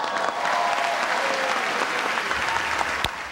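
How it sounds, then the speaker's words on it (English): Dense applause fills a room at the close of a comedy set at the 2015 White House Correspondents' Dinner, steady and sustained throughout, with a sharp clap standing out near the end. "My team here is clapping"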